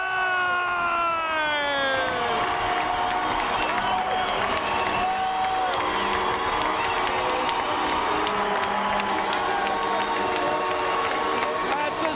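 Crowd of more than 2,000 in a junior hockey playoff arena in Okotoks roaring and cheering after a goal, a dense sustained wall of noise with a goal horn or siren wailing over it at the start.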